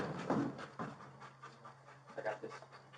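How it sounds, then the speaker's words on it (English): A police dog pants rapidly and rhythmically at close range during an indoor bodycam search, the quick breaths rising and falling in a steady pattern with a faint background hum. "we're just gonna send the dog in for that door."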